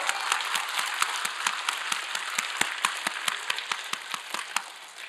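Congregation clapping during a Korean worship service. Moderately loud applause with distinct sharp claps standing out over the steady patter, fading slightly at the end.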